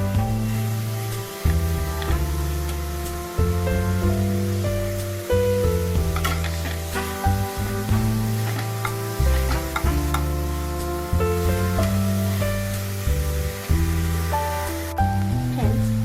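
Carrots for gajar halwa cook over a high flame in a steady, continuous sizzle with occasional stirring scrapes, partly masked by tonal background music throughout.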